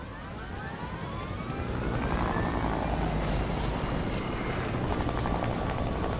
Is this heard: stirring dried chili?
no